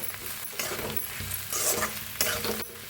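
Roasted okra being stirred in a pan with green chilli and garlic, scraping spatula strokes over a continuous sizzle of frying, close and moderately loud with rhythmic bursts, no talking.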